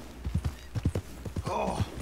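Hooves of a Hungarian Half-bred horse clip-clop in Red Dead Redemption 2, a quick, steady series of close, hollow thuds as the horse walks, with a brief soft snort partway through.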